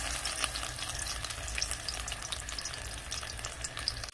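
Banana flower and egg pieces fry in a pan with a steady, moderately loud sizzle and occasional crackles, running continuously with no talk.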